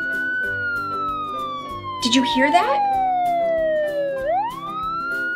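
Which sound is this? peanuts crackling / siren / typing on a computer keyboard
siren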